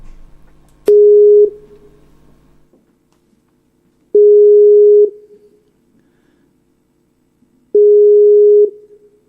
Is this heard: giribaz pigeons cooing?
no